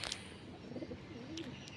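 Soft pigeon coos murmur in the background over a low outdoor hum, with a few faint chirps; no one speaks.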